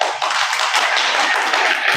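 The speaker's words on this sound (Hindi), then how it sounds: "थोड़ा ताली बजाओ थोड़ी सी" Audience at a yoga talk in Gondia, Maharashtra clapping, a dense burst of many hands patting together, steady and close for the whole two seconds with no voices.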